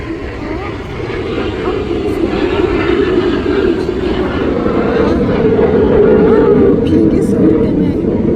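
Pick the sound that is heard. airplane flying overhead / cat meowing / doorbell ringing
airplane flying overhead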